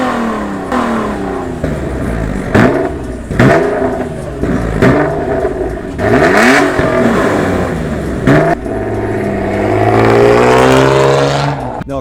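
A Nissan Altima revving hard and accelerating through repeated gear changes, each pull a rising engine whine that drops abruptly at the shift, loud and close, building to a long high-revving run at the end.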